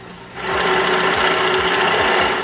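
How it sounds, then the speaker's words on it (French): Power drill boring a 1-inch hole through an old 2x4, a steady high whirring drone starting abruptly after a quiet moment and holding loud and close with a faint periodic thump. "Pour percer les trous au centre des pièces rondes, je perce un trou d'1 pouce et encore dans un vieux 2x4."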